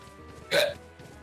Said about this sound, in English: Hiccuped.